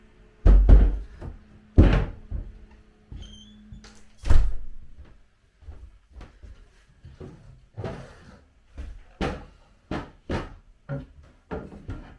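A small bathroom cabinet drawer is opened and closed repeatedly, giving a close series of sharp wooden knocks, slides and clicks in an irregular rhythm, loudest early on and lighter toward the end.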